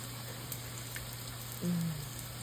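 Funnel cake batter frying in hot oil, a steady faint sizzle and crackle throughout, close and continuous with a low hum underneath.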